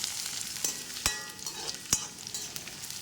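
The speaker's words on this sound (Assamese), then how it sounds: "তেল গৰম হ'ল, বগা সৰিয়হ দুটামান দি দিছোঁ। আৰু এফালে 4টা শুকান জলকীয়া দি দিছোঁ, এইফালে পিঁয়াজ আৰু নহৰু কেইফুটা।" Mustard seeds, dried chillies, onion and garlic frying in hot oil, a steady close sizzle with two sharp spatula taps against the pan, no talk.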